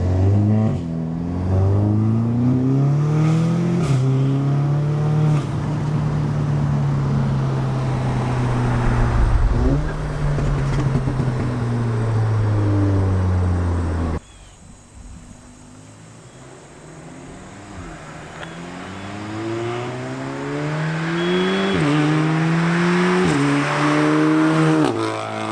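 A tuned 400 HP Audi S3 revs loudly up and down in repeated sweeping pulls, its engine note rising and falling close to the microphone, with a brief drop in level midway before climbing again.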